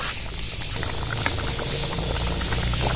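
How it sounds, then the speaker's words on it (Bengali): Moong dal with bottle gourd boiling in a covered pot on the stove, a steady bubbling simmer with a low rumbling hiss and faint lid rattle, close and continuous without talk. "আমার 2 মিনিট ফুটিয়ে নেব।"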